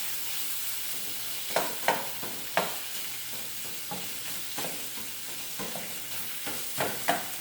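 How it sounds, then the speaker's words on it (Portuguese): Bacon sizzles steadily in a pan while cooking feijão tropeiro, with soft scraping and stirring clicks breaking through the constant frying hiss. "Então vamos começar fritando os bacons aqui."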